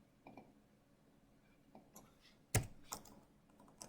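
Someone types sporadically on a computer keyboard during a coding session, quiet close clicks and keystrokes with one sharper clack, no talking.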